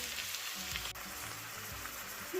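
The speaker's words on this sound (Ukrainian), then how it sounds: "І все це смажимо до готовності на середньому вогні." Steady sizzling and crackling of onion and carrot frying in a pan, continuous and close, with faint scraping stirs underneath.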